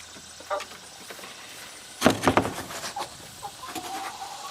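Chickens in a backyard coop cluck in a short burst of several calls near the middle, with a few softer clucks around it against quiet outdoor background.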